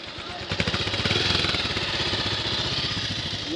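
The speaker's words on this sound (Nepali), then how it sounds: "गणेश बाइक लड्छ है बिस्तारी है ठेल्दैछ गणेशजीले हाम्रो बाइक" A motorbike engine chugs close and rough with a rapid, pulsing rhythm on an off-road trail along the steep bank of the Trishuli River, its loudness holding steady throughout.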